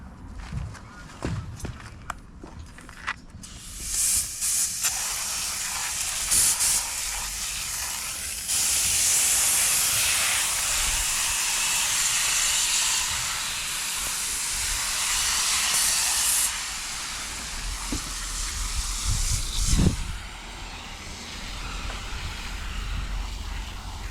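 Water and foam are sprayed across the air-conditioning radiator of a Peugeot 3008, giving a loud, sustained hissing spray that comes in long bursts, with shorter bursts and some handling noise before and after.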